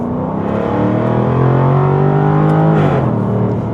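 A loud 2024 Jaguar F-Type R75 V8 engine revs hard, pitch climbing, then drops sharply as it downshifts and climbs again, close and alone.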